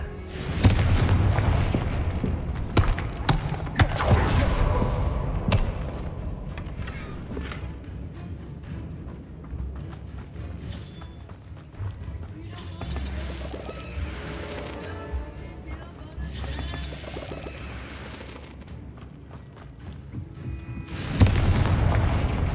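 Confringo fire curse explosions in a Harry Potter video game: repeated deep booms and crashing blasts, loud and close, with rumbling debris between bursts and a strong blast near the end.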